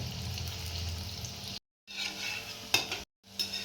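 Batter pakodas of moong dal, crispy Marathi-style bhaji, fry in hot oil in a kadhai with a steady close sizzle and bubbling. Two short pauses break the sound, and a few soft stirring clinks are heard.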